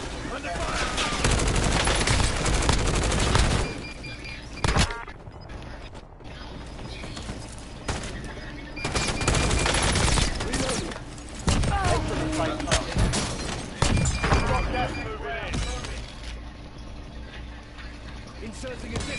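Gunfire in Call of Duty: dense bursts of automatic fire and sharp shots come in loud clusters with brief lulls, mixed with game effects and short stretches of voice.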